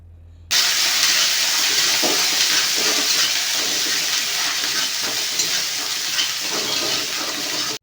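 Ground ginger and cumin paste frying in hot oil as turmeric powder and salt are added, a loud, steady sizzle and hiss heard close up and alone.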